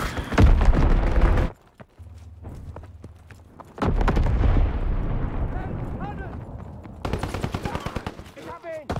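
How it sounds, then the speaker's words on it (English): Heavy bomb blasts and rattling gunfire from the Call of Duty WW2 video game, played in team deathmatch, boom loud and close in bursts with short quiet gaps. Voices speak over the battle. "Enemy bomb incoming, get to cover!"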